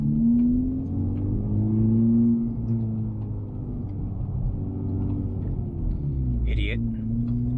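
Car driving slowly through a parking lot, heard from inside as a steady low engine rumble with a gently rising and falling tone and a brief higher squeak near the end.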